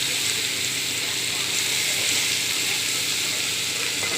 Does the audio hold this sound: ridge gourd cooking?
yes